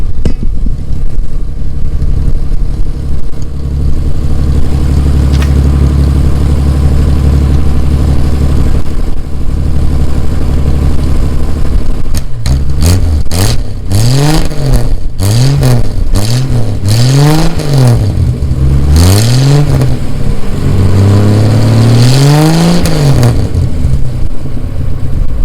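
A 1963 Ford Falcon Futura hardtop, running for the first time in 18 years, idles with a low rumble, then revs repeatedly in rising and falling bursts, loud and close.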